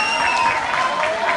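Applause from an audience for a choir at a school cultural week concert, a steady dense wash of clapping with voices and cheering mixed in, heard at a moderate distance throughout.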